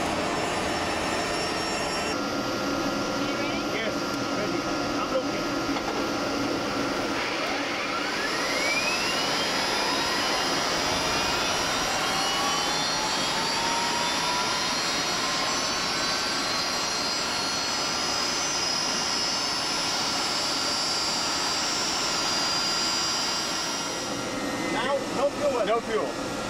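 The turbine engines of an Mi-24 helicopter spool up in a steady rising whine that climbs in pitch over many seconds. The roar stays loud and continuous, with a brief shift near the end.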